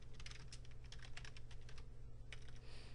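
Rapid typing on a computer keyboard during a network port security lab, a close, quick run of crisp key clicks with a brief pause near the end, no voices.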